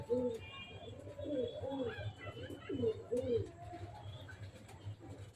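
Pet pigeons kept at home in West Bengal coo repeatedly in soft, rolling calls, close by, with a few faint chirps and a low background hum; a voice may murmur underneath.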